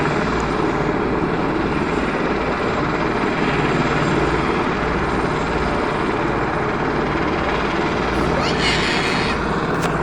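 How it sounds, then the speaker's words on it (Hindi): A helicopter takes off from a hillside pad near Katra in Jammu, its rotor and engine roar loud, close and steady throughout, with voices faintly underneath. "ये ले टेक ऑफ कर गया।"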